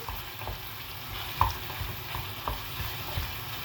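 Onions sautéing over high heat in a pan while prawns are being cooked, with a steady soft sizzle and occasional stirring clinks and scrapes close by, no talking.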